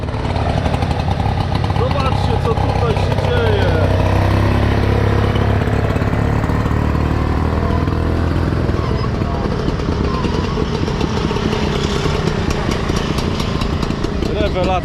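An old small tractor engine idles with a loud, continuous rattling chug close by at a vintage tractor rally, while people talk over it.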